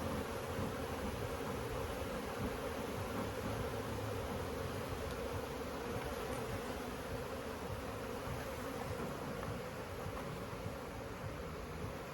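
Honeybees swarm around a backyard beehive during an inspection, a steady, dense droning buzz close by that stays even and unbroken throughout with no talk.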